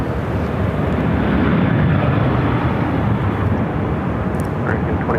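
An airliner taking off on runway 25 right at Phoenix Sky Harbor, a loud steady broadband jet roar filling the whole stretch, near and constant, with faint talk mixed beneath.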